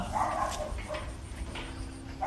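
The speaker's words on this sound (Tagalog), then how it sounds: "Marami kasing aso dito eh." Several dogs on a rural farm barking, a continuous overlapping mix of yips and barks from close by, with faint voices behind.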